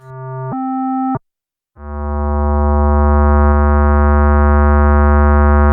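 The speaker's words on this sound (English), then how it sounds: "I'm holding a voice here and turning the envelope knob, and we're going to listen to the the loudness of the note." MXR Bass Synth pedal playing a steady synth bass note: two short stepped tones, a brief gap, then a long sustained harmonic-rich note that swells smoothly in loudness as the amplitude envelope knob is turned, loud and close with no talking.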